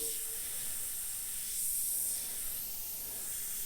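An airbrush sprays paint onto a UV jellyfish artwork, giving a steady, close, even hiss that holds for the whole stretch with no talking.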